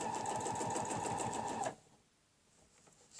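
Sewing machine stitching a holly leaf along a ruler, a fast, even close whirr that runs for about a second and a half, then stops abruptly into near silence.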